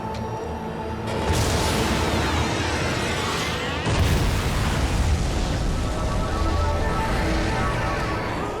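A loud explosion in a horror film action scene, a heavy booming blast that erupts after a second and rolls on as a dense, roaring rumble with a second surge midway, without speech.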